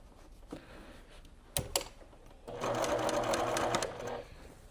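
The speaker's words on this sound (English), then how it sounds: "I did a back stitch to anchor it." A sewing machine stitches through a fabric quilt block, its motor running in a steady close whirr for under two seconds after a couple of sharp clicks, with a short back stitch to anchor the seam.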